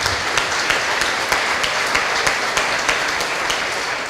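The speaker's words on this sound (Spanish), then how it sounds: "un aplauso al Señor por esta obra hermosa" Loud, continuous applause from a church congregation, a dense wash of many hands clapping with rhythmic peaks, filling the room without any voices over it.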